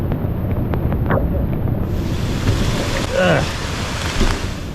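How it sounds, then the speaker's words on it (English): Steady heavy rain hissing on a surface during a thunderstorm, with gusty wind buffeting the microphone and a brief bit of distant voice partway through. "Pouring down rain and thunder all around."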